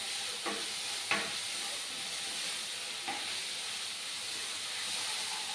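Sliced onions sauté in a pan for a Kerala chicken roast, a quiet steady sizzle and hiss with a few sharp stirring scrapes against the pan.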